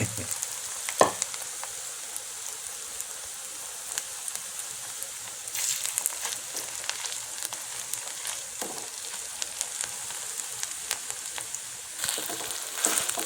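Food sizzles steadily in hot oil, a constant crackling hiss with occasional louder spatters and a few clinks, close and uninterrupted.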